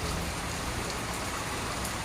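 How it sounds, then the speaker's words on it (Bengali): Rain falling steadily outdoors near a railway crossing, a dense broadband hiss of drops that stays even and fairly close throughout the short stretch, with no voices. "আজকে বৃষ্টি পড়ছে"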